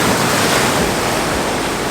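Ocean waves wash steadily over a rocky pebble beach at sunrise, a loud, continuous close-up roar of surf with some wind rush and no voices.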